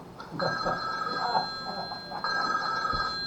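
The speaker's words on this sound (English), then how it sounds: "When this red phone rings, a 4-star general or the President of the United States is supposed to be calling." A red military hotline telephone rings with a bright electronic bell, two clear ring bursts separated by a short pause, close and fairly loud over a faint room murmur.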